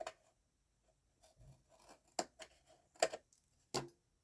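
Scissors snip excess material from a handmade gift box, a few sharp, close cuts spaced irregularly with quiet rustling of paper or card between them.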